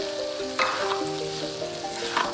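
Coconut milk boiling in a pan over medium heat while being stirred, for a peanut sambal; a steady close sizzle and bubbling with a couple of brief scraping stir strokes, no talk.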